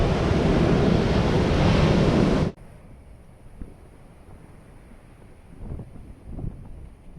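Wind and ocean surf at a beach campsite roar loudly into the microphone for about two and a half seconds, then cut abruptly to a quiet outdoor ambience with faint soft bumps and no voices.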